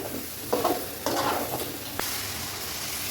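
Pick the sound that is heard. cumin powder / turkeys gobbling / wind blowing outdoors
cumin powder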